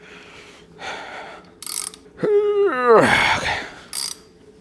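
A hand tool grinds and ratchets while turning the crankshaft of a BMW E39 M5 engine, giving a rising mechanical whine and clicking bursts up close, with a brief spoken word and heavy breathing.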